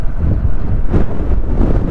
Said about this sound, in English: Man, it's windy out here. Some kind of crazy windy.